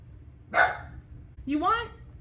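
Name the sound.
dog barking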